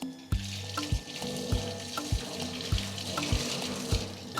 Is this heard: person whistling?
no